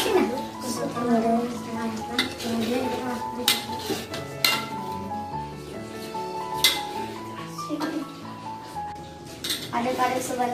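Curry seasoning being stirred in a pot for chicken curry laksa broth, with metal utensil clinks and scrapes against the pot under continuous spoken Indonesian and a light musical background.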